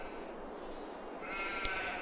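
Sheep bleat in Farming Simulator 22, on an open-pasture setup for milk and wool sheep. A steady pastoral bed runs underneath, and a clearer, louder bleat rises near the end.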